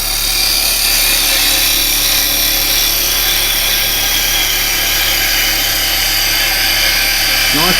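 A woodturning gouge cuts round a spinning yew blank on a lathe, riding the bevel, giving a loud, continuous hissing scrape over the lathe's steady motor hum from start to finish.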